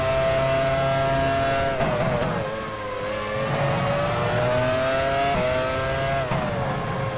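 Formula 1 race cars from F1 Challenge 99-02 scream loudly and continuously, the engine pitch rising and dipping through gear changes, with a brief tire squeal and another car passing close by.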